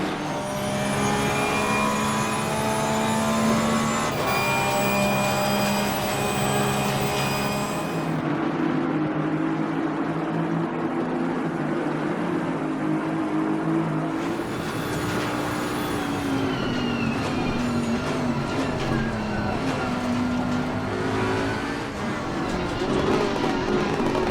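Several racing cars thunder down Conrod Straight at Bathurst in a sim racing game, engine tones rising and shifting as they pass, loud and continuous with no talk.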